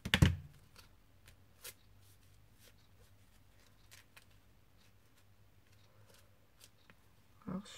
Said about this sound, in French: je vais couper les petits bouts